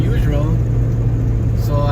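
9th-generation Honda Civic engine fitted with a test pipe in place of a catalytic converter, droning loudly and steadily at VTEC engagement with a strong low hum, while a person talks over it.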